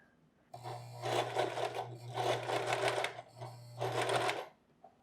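A sewing machine stitches the fly zipper on a pair of pants in three close, rapid bursts of rattling stitches with short pauses between them, heard alone over a low motor hum.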